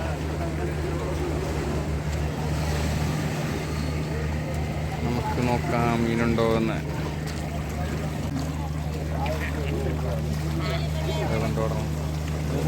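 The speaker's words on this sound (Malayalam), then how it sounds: "അടുത്തൊരു ബോട്ട് എത്തിയിട്ടുണ്ട് നമുക്കത് ആ ചൂര മീനുമായത് വരുന്നു" A fishing boat bringing in tuna comes into Vizhinjam harbour with a steady low engine drone and wind noise. People talk nearby over the constant rumble.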